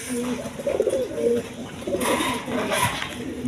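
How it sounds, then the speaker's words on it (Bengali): Pigeons, including yellow and cream-bar varieties, coo close by at a pigeon market, soft throaty burbling calls repeating over a faint background murmur. "বিভিন্ন রকমের কবুতর আছে"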